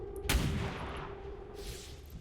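A single sharp gunshot bursts out in the XCOM 2 video game, then a rumbling tail fades away with faint game ambience behind it.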